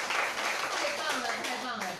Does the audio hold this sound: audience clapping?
yes